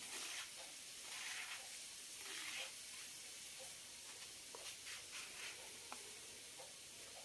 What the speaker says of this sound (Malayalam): നന്നായി വഴറ്റിയെടുക്കാനുള്ളതാണ്